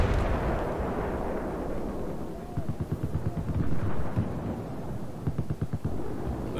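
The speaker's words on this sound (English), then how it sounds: "Oh god, someone's shooting me." Gunfire rumbles and cracks in a Battlefield 4 battle, with heavy booming shots and a run of rapid, closely spaced reports at moderate distance over a constant low roar of combat.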